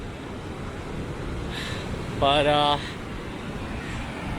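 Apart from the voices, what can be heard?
waterfall water rushing onto rocks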